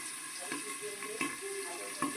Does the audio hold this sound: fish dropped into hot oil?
yes